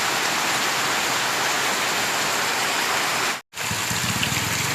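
Heavy rain pouring in the hills, a loud continuous rushing hiss that cuts out for a moment and resumes with a few faint low sounds underneath.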